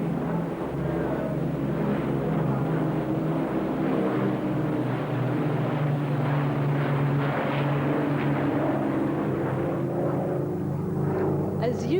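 Avro Lancaster WWII bomber at an airshow, its piston engines giving a steady, droning rumble that holds throughout, someone commentating over it.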